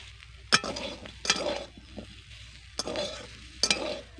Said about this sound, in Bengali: এভাবে কিন্তু মাঝে মাঝে আমি সজনে ডাঁটাকে নেড়ে রাখছি যাতে মশলাগুলো নিচে না লেগে যায়